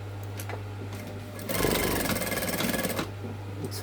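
Sewing machine stitching a zip onto a garden seat pad: a steady, fast mechanical chatter runs for about a second and a half over a constant low hum, with quieter handling noise before and after.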